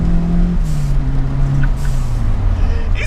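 A Series 1 RS Turbo car engine droning steadily with a shifting low tone, close and loud, with a few faint sharp pops on the overrun off boost, under a talking voice.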